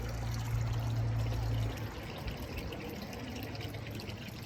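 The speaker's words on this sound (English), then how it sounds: "Here's the water feature that I showed you last time" Garden water feature trickling steadily outdoors beside flowering plants, a soft continuous splash that is fuller at first and then settles into a thinner, even flow.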